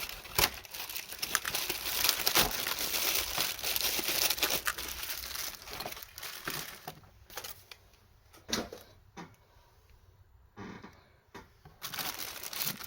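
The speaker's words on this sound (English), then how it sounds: "once I get them out of the cardboard here, I'll unwrap them." Paper packaging crinkles and crumples steadily as action figures are unwrapped, with sharp rustling bursts early on, then quieter stretches broken by occasional crisp crackles.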